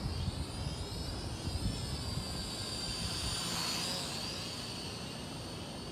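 A small camera drone flies nearby, with a steady high-pitched whirring buzz of its propellers that holds level and then fades slightly as it moves away.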